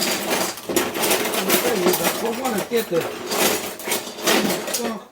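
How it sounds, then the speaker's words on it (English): Metal kitchen utensils clatter and clink as someone rummages through a drawer, a continuous jumble of close rattling under a person talking. "let's see what we got in our magic drawer"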